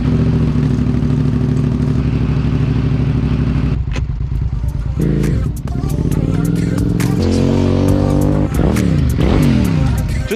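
Suzuki SV650 motorcycle engine being started after a stator replacement, loud and close, cranking steadily and then catching into an uneven rumbling idle with rising and falling revs.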